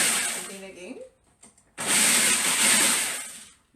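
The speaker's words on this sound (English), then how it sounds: "And then you blend it again." A kitchen blender whirs loudly while mixing milk tart filling, a bright sustained motor roar that starts abruptly after a short pause and quieter clattering, then runs steadily for nearly two seconds before tapering.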